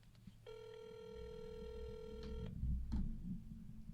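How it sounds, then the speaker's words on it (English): A telephone rings once with a steady electronic tone lasting about two seconds, fairly clear over a low background hum, followed by a brief click. "The phone's ringing."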